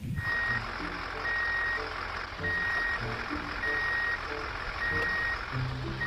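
A toy tow truck sounds its electronic reversing alarm, a loud repeating beep at an even pace of about five beeps, over a faint mechanical hum underneath.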